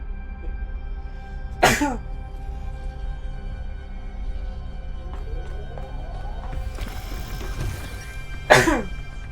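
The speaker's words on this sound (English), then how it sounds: "Sorry, I have to sneeze." Two sharp, explosive bursts, one early and one near the end, separated by several seconds of quiet murmuring, like sneezes over a low background hum.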